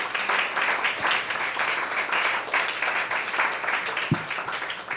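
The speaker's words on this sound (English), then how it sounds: "another round of applause for Mike." Audience applause at an open mic night, a steady broadband wash of many hands clapping that holds at an even level throughout without letting up.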